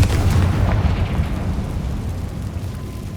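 Confringo fire spell blasts in Hogwarts Legacy, a loud booming explosion at the start trailing into rumbling crackle and debris that fades over a few seconds.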